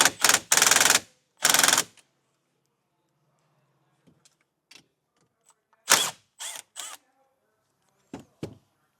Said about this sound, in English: So we'll have to take off the 13mm nut.